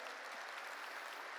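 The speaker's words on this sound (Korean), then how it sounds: "깨달은 사람만 박수 쳐요" A congregation claps in a church service, a dense, steady patter of many hands heard faintly and continuously for a short moment, with no voice over it.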